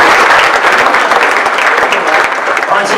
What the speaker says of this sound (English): So why don't you guys give yourselves a round of applause to start this evening.